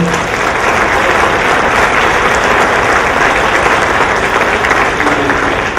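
An audience at a pediatrics session gives a steady, dense round of applause that holds at full strength throughout, loud and close, with no voices on top.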